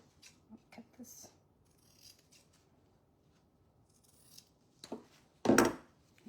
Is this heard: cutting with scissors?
yes